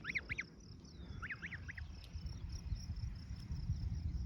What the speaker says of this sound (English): I think I have a baby goose.